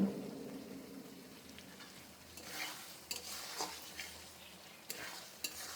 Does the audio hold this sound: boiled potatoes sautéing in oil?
yes